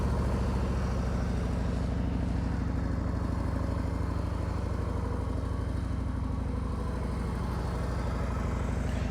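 Motorcycle ridden at slow speed during advanced slow-riding practice, a steady low engine putter with rapid even firing pulses, moderately close and continuous without speech.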